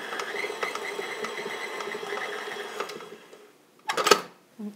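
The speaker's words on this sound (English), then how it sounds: "Start your mixer off slow, and that way you won't be wearing the confectioner's sugar." A stand mixer whirs steadily at slow speed, blending cream with confectioner's sugar, a continuous mechanical hum with faint periodic clicks that stops partway through, followed by a brief clatter.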